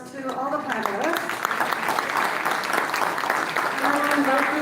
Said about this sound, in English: Let's give a big round of applause to all the panelists.